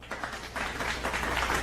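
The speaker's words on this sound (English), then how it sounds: "You know we got them claps for y'all." A live studio audience applauds in a dense, continuous wash of clapping that swells after a brief start and holds steady, fairly close and loud.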